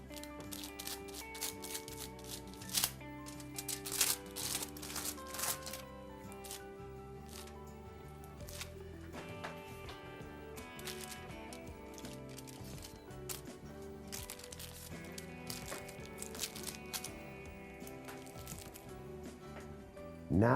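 Foil sheets are handled and folded during hair highlighting at a salon station, giving a stream of close crinkles, crackles and light rustles that start and stop irregularly over a quiet background, with no voices.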